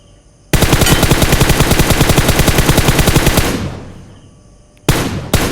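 Automatic gunfire in PUBG Mobile (BGMI), a loud, rapid sustained burst of rhythmic shots for about three seconds, fading out, then another sharp burst starting near the end.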